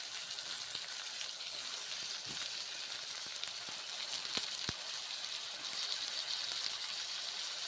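Bottle gourd frying with spices in a wok for lentil dal, a soft steady sizzle with a few sharp clicks of stirring.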